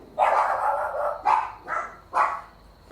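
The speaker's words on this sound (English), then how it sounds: "please excuse the dogs out there" Jack Russell terriers bark four times in quick succession, sharp and fairly close, with short gaps between barks.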